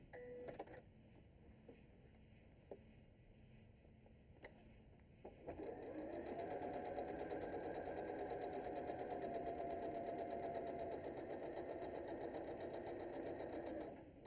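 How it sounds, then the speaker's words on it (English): A sewing machine runs steadily as it stitches the bottom edge of a fabric tote bag, with a few faint clicks first, then a continuous even whirring hum that lasts about nine seconds. "for both the lining and the outer fabric on this bottom edge, I like to sew it twice just to make sure that the bottom won't rip when we finish."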